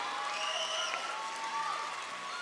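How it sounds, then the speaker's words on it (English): Crowd applause and cheering for children at an India Day celebration, a dense steady wash of clapping with some voices and whistles mixed in throughout. "So please give a big round of applause."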